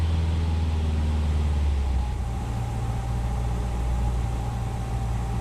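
A light aircraft's engine steady at idle after being throttled back for a simulated engine failure, a continuous low droning hum with a slight drop in pitch early on, close and alone without talk.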